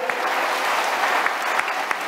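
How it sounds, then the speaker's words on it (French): A church congregation claps through a Sunday service, a close, continuous patter of many hands with a few sharper individual claps standing out. "Applaudissez pour lui."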